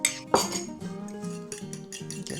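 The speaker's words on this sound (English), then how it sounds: "this is that mixture of yogurt and cream that we whisked up earlier" A fork whisks a lumpy, buttermilk-like mixture of yogurt and cream in a bowl, giving a few sharp metallic clinks near the start and then lighter, steady tapping and scraping close by.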